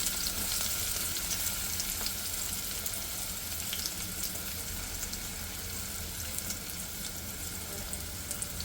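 Onions frying in hot oil with popping mustard and fenugreek seeds for a Tamil Nadu–style fish curry, a dense continuous sizzle close by and steady throughout, with no talking.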